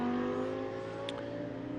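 An Audi race car's rear-mounted 5.2-litre V10 holds a sustained, steady high-pitched drone at an endurance race in Hungary, loud and even with no talking.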